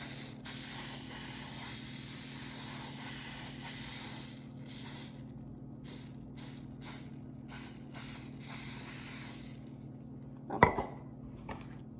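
Quick bursts of cooking spray hiss onto a brownie pan, first a long continuous blast then several short squirts, followed by a brief metallic clatter near the end.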